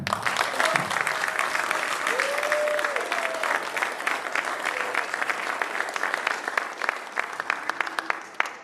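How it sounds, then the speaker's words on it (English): Sustained applause from a crowd at a sports banquet and awards night, steady and fairly loud throughout, with a few faint whoops or voices rising briefly over the clapping. "Huge round of applause to Mike and his family."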